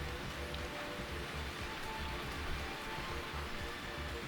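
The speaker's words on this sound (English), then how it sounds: "Closing the window shut out the sound of the rain outside" Steady rain falling outside in a visual novel scene, a faint, continuous patter and hiss with no voices.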